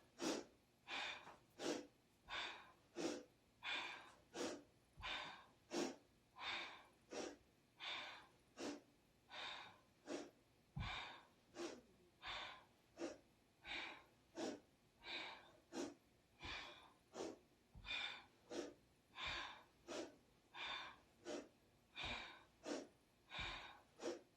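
Forceful, rhythmic breathing during a Kundalini yoga breathing exercise: about two dozen sharp, evenly spaced breaths, roughly one per second, close and clear with nothing else audible.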